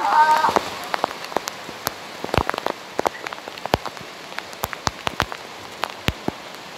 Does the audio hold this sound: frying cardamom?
no